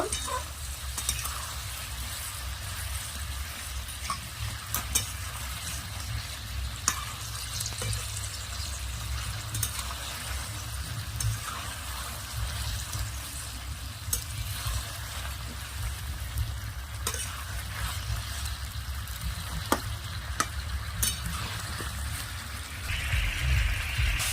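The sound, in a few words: toffees frying on high heat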